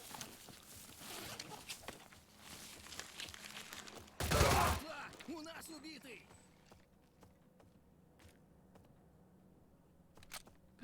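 Video game gunfire from an enemy shooting through a wall, heard as a short loud burst of shots under a player's speech, followed by scattered faint clicks and movement sounds.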